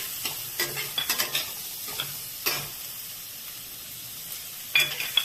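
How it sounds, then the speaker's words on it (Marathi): Finely chopped onion and small chili pieces frying in a pan, a soft hiss under intermittent stirring scrapes and clicks of a spoon against the pan. "कांदा थोडा लाल करून घ्यायचा त्यात मिरच्याचे हे आपण जे बारीक तुकडे केले ते आता मिरच्याचे तुकडे घालत आहोत"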